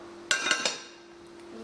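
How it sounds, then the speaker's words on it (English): A glass lid is set onto a Pyrex casserole dish holding chopped onions, fresh garlic and ginger, giving three quick close clinks in a row that ring briefly and fade. "We put the lid on"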